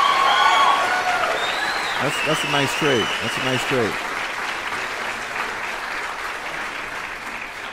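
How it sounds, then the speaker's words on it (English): Applause plays steadily under a voice on a penny-stock trading show, the clapping loudest at the start and easing off as he speaks. "Let me give you a round of applause,"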